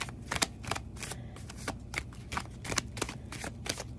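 Tarot cards being shuffled by hand, repeated sharp riffling snaps in a quick uneven rhythm, close and fairly clear over a soft background, with no talk.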